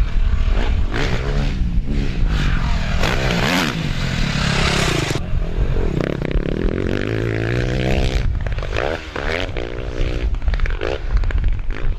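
A KTM 450 SX-F four-stroke motocross bike with an Akrapovic-inspired exhaust runs loud and close, its engine rumbling and revving with rough, uneven changes in pitch and a harsh, raspy tone for the whole stretch.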